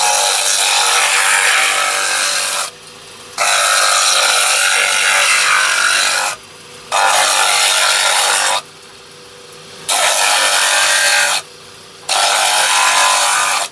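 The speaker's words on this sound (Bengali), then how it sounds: "এই আবার এই গ্রাইন্ডারে গ্রাইন্ডিং" A grinder works a horn plate in a small craft workshop, a loud, harsh abrasive rasp in long bursts broken by short pauses, close and dominant.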